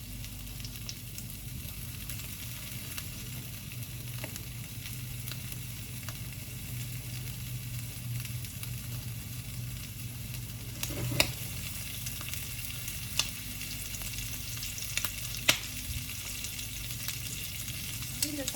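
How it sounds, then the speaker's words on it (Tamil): Squid pieces fry in hot oil in a pan, making a constant, even sizzle with occasional sharper pops and crackles rising out of it, heard alone and at moderate loudness for the whole stretch. "எண்ணெய் வந்து நல்லா கொதிச்சுட்டு இதை நாங்கள் இனி ஃப்ரை பண்ணி எடுத்துடலாம்"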